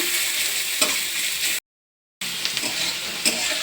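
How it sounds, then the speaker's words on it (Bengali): Chopped onion fries in a pan with whole spices, a bright steady sizzle broken by a brief silent gap and a few stirring scrapes. "পেঁয়াজকে একটু সুন্দর করে ভেজে নেব"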